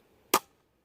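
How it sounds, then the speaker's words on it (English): A Weihrauch HW100T air rifle fires a single sharp, crisp shot that cracks once and decays within a fraction of a second against near silence. "and then just the slightest bit more pressure, and off goes the shot"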